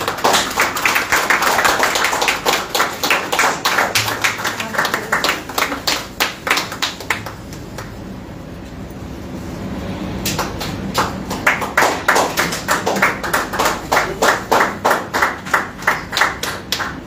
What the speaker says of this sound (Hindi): ताली जोरदार होनी चाहिए भाई।